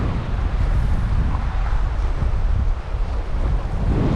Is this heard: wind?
yes